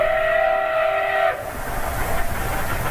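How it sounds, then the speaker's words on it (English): An old-fashioned steam train in Russia sounds a loud, sustained, tonal whistle that cuts off after about a second, leaving the rumbling, clattering noise of the moving train. "Old-fashioned steam trains are becoming more and more popular in Russia."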